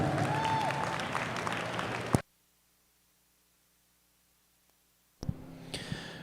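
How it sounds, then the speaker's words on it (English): A crowd at a heifer show claps loudly, the applause breaking off abruptly, then picking up again after a few seconds of silence. "give them guys a nice round of applause."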